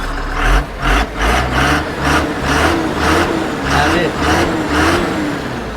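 Diesel engine of a Tata Signa 4923.S tractor-trailer with 590,000 km running close up, a deep throbbing rumble that swells and dips in a regular rhythm of about one pulse per second, with a voice faintly underneath.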